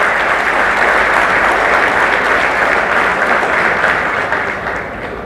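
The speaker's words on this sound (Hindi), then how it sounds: "जोरदार ताली बजाओ इस बात के लिए।" An audience at a community gathering applauds loudly, a dense, sustained roar of many hands clapping that tapers off slightly toward the end.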